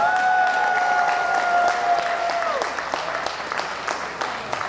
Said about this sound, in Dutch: heel hard te joelen en te klappen voor al de vrijwilligers